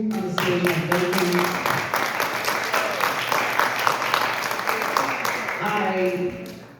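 An audience applauds a panel on stage, with many hands clapping in a steady, close patter that fades out at the end while voices carry over it.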